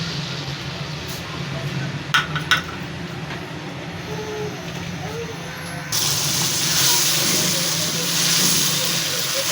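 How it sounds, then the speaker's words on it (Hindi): Onion paste dropped into a cup of hot oil in a kadai for restaurant-style chicken handi. A couple of soft knocks come before a steady, close hiss that jumps louder partway through. "अब कढ़ाई लेंगे, उसमें ऑयल 1 कप डालेंगे, प्याज का पेस्ट शामिल करेंगे"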